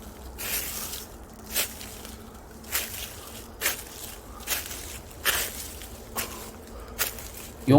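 Footsteps in sneakers on slippery fallen leaves, a slow, irregular series of soft crunching steps, close and fairly quiet against a calm outdoor background.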